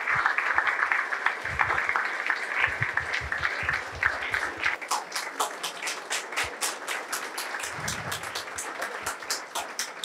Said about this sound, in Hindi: जोरदार तालियों की प्रस्तुति देते रहिए वेलकम के साथ।